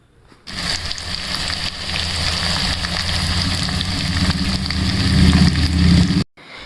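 Masala-stuffed bitter gourds (karela) being sautéed in hot oil in a pan: a loud, steady sizzle that starts abruptly, holds for about six seconds and cuts off sharply, with a low rumble beneath and no talk.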